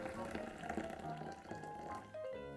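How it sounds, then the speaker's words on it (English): Hot water pours into a bowl of oshiruko sweet red bean soup, a steady splashing trickle filling the bowl up close, with a voice speaking over it. "let's place it in and add some hot water"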